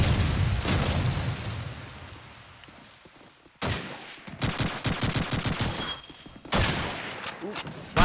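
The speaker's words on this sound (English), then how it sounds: "Nades going out everywhere." Grenade blasts and rapid gunfire from the shooter game Call of Duty 2 during a competitive showmatch, loud sudden bursts of shots and explosions after a quieter rumbling stretch, with a voice talking underneath.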